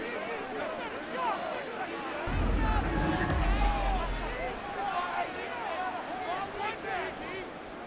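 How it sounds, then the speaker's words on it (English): Stadium crowd in Madden NFL 24 swells into a dense roar before a two-point conversion, a broad wash of cheering that rises partway through and stays loud, with a commentator's voice speaking over it. "Listen to this crowd now."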